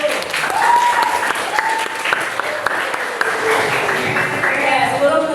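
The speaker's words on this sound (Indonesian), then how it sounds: "Tepuk tangan dulu." Students in a classroom clap together in a lively, uneven burst, with sharp individual claps standing out and voices and a few tonal sounds mixed underneath.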